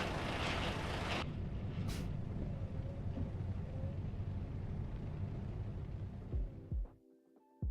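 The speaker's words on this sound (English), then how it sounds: "We're gonna attach the trailer." A heavy truck in American Truck Simulator backing onto a trailer to couple it, low steady engine rumble throughout with a sharp air-brake hiss near the start, then a clunk as the rumble drops away.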